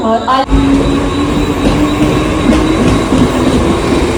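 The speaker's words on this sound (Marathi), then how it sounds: "तर अशा प्रकारे आपली ट्रेन आलेले आहे" A train rumbles steadily close by at night, with a sustained metallic whine and clatter, as if pulling into a platform.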